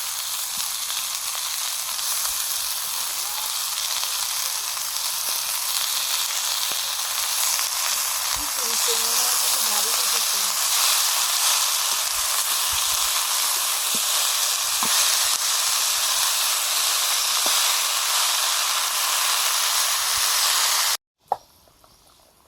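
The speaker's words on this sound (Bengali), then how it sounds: "ফুলকপি আর সিম ভাজা ভাজা হয়ে গেছে এবারে দিয়ে দিচ্ছি মূলো শাক" Radish greens frying with cauliflower and beans in a pan, a dense, steady hiss and crackle of sizzling oil that continues loudly and evenly for about twenty seconds before cutting off abruptly.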